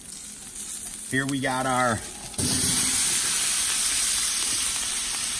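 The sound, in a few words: vegetables sizzling while grilling for paella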